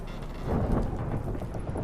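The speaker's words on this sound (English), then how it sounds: "Didn't bargain for no storm." A thunderstorm in the video game The Witcher III: Hearts of Stone: a steady wash of rain with a deep rolling thunder rumble that swells midway and then holds at a constant level.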